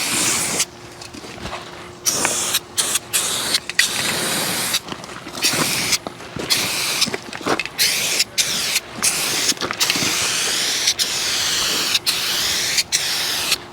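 A Rust-Oleum spray paint can hisses loudly while coating a muscle car, in many short bursts and longer passes broken by brief pauses.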